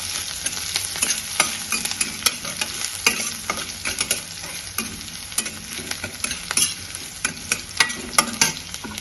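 Garlic and green chillies stirred in hot oil in a pan, a close crackling sizzle broken by frequent scraping spoon strokes in an uneven rhythm.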